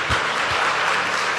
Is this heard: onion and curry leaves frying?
no